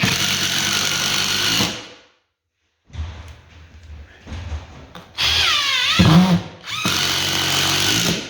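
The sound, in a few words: power drill driving construction screws into floor patch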